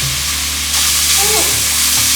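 Spiced coconut curry paste fries and is stirred in a pan, a loud close hiss that brightens partway through, with a hum and brief tonal sounds underneath.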